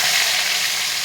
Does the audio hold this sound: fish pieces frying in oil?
yes